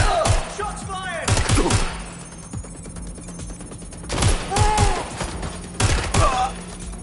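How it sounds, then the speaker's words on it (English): Gunfire in the video game Watch Dogs: Legion comes in several sharp bursts of rapid shots separated by short quieter gaps, loud and close, mixed with game effects. "Shots flying!"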